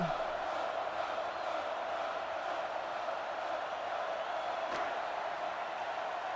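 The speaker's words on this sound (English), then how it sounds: "As this home crowd urges them to go for it." A home crowd at a football game roars steadily, a dense, distant wall of cheering and urging that holds at an even level throughout.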